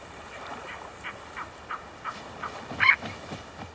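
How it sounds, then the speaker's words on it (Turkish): Birds gathered at Kuril Lake in winter call out in a series of short, moderately distant honking cries, roughly one every half second, with a louder, closer call near the end over a quiet outdoor background. "Her kış düzinelerce kuş Kuril Gölü'nde toplanıyor."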